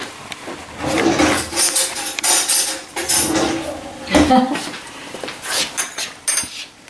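A spoon is fetched from a kitchen drawer, bringing a busy run of metal cutlery clinks, rattles and knocks of dishes, loud and close, in irregular bursts.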